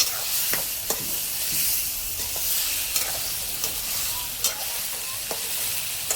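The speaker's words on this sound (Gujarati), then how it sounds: "થોડી વારમાં ખોલીને આ રીતના હલાવતું રહેવાનું, એટલે તળીએ દાજકો ન પડે." Oil sizzles steadily in a pan of frying shark fish while a utensil scrapes and stirs with intermittent clinks, fairly close and without talk.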